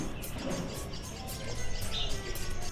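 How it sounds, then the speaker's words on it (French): Birds chirping through a steady wash of outdoor background noise at a Hindu temple, the calls faint and intermittent. "Un silence saccadé de temps à autre par le chant des oiseaux."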